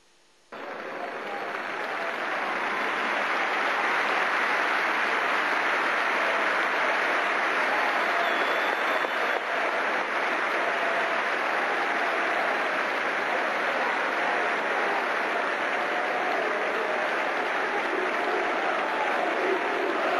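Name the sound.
stadium crowd applauding respectfully during a football minute of silence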